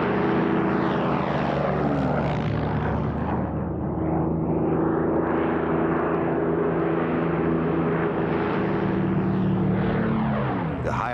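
A Spitfire fighter with a Merlin engine and two-stage supercharger passes with a loud, continuous propeller-engine roar that swells and shifts pitch as it flies by.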